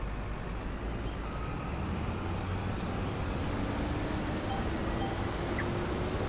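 A truck engine in Farming Simulator runs with a continuous deep rumble and faint rising whine, steady and close for several seconds, with no talking.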